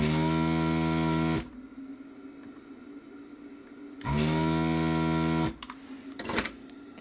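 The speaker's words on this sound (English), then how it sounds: "This kind of tool does is it heats everything up, melts the solder, and then sucks it out with a vacuum." A desoldering tool's vacuum pump hums in two steady, loud bursts of about a second and a half each, with quiet pauses between them. It is pulling solder from an electronic module during a diesel truck fuel-system teardown. Faint clicks follow the bursts.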